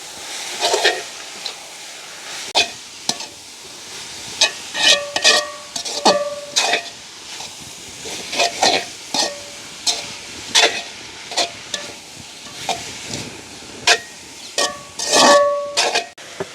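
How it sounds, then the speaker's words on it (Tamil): Sliced carrot stirred and fried in a pan for village-style paan kothu, with repeated sharp scraping and clinking strokes of a utensil against the pan over a low, quiet sizzle. "வட்டி வச்சிருக்கிற கரட் இப்போ நல்லா வடிவாக பிரட்டி விடணும்"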